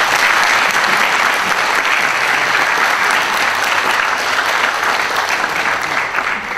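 A concert audience at an opera competition gala applauds the jury members, loud, dense and sustained clapping filling the hall without a break.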